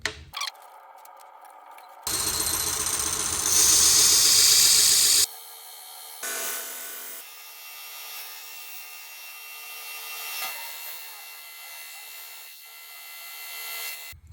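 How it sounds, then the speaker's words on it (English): A Vevor 1x30 belt grinder with a KFMK attachment and a 100 grit belt sharpens a butter knife, bursts of hissing abrasive grinding, loudest for a few seconds, between quieter motor hum and pauses. "We are using the Vevor 1x30 belt grinder with the KFMK attachment."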